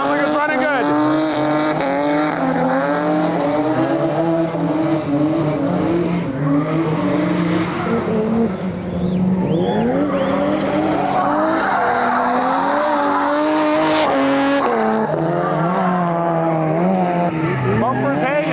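A Nissan 350Z drift car running a big single turbo at a grassroots drift event in the Midwest, engine revving hard with rising and falling pitch, tires squealing through slides, loud and close, voices talking over it.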